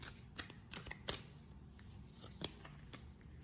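Oracle cards are shuffled in quick, crisp riffling bursts and soft slaps, close and quiet, with no talking.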